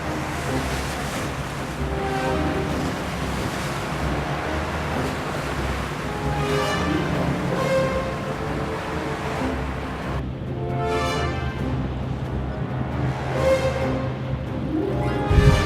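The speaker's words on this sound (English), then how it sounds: "The breeze and the seas are increasing greatly as the fleet heads out of the mouth of Narragansett Bay" Wind gusts and rough sea waves wash and roar steadily at the mouth of Narragansett Bay as a racing fleet heads out, with constant whooshing surf and buffeting wind.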